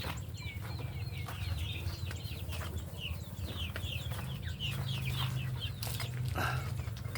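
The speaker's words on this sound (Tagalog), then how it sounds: "Ngayon po ating sisilipin yung mga ating mga sisiw na galing po sa incubator." Young chicks hatched in an incubator peep and chirp in a busy high chorus, with faint rustling and scratching nearby and no talking.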